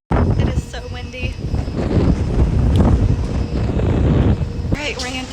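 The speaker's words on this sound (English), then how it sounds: "It is so windy." Strong gusts hit the microphone outdoors, making a loud continuous rumbling buffet that swells and eases, with a person talking through it.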